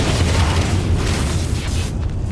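UV lights destroyed in an explosion in Evolve on PC, a dense, loud rumbling blast that carries on for about two seconds without any talk.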